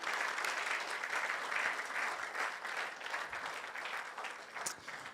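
Applause from the audience at the NSMQ 2023 national championship launch event, steady dense clapping filling the hall throughout, moderately loud with no voices over it.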